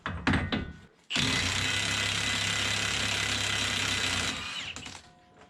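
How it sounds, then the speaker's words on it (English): A Milwaukee high-torque impact gun spins off a crusty 35 mm axle nut on a Pontiac G6 during a wheel bearing job, with a couple of short bursts followed by a loud continuous whirring run of about three seconds that winds down. "I'm just gonna use the Milwaukee high torque gun just to zip it off as fast as possible"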